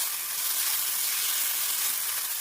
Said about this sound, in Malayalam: ഇതിൻ്റെ കൂടെ തന്നെ വേവിച്ച് ഷ്രെഡ് ചെയ്ത് വെച്ച ചിക്കൻ ചേർത്ത് ഇതെല്ലാം കൂടി ഒന്ന് മിക്സ് ചെയ്യാം.